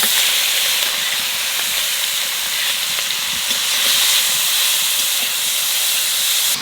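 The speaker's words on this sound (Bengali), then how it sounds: "এইবার চিংড়ি মাছ ভাজবো নুন আলু দিয়ে।" Prawns frying in a pan with salt and potato give a loud, steady sizzling hiss that holds unbroken throughout.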